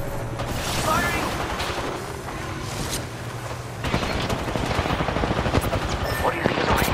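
Automatic gunfire in the battle-royale video game Apex Legends, rapid bursts of shots with mechanical clatter building toward the end, mixed with game effects and a voice speaking briefly.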